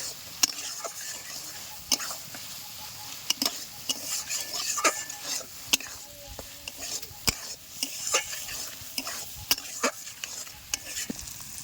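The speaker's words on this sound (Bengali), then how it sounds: "এবার সব কিছু একসঙ্গে ভালো করে মিশিয়ে দেব।" Ingredients are stirred and mixed in a frying pan, with frequent sharp spoon taps and scrapes against the metal over a low, steady sizzle.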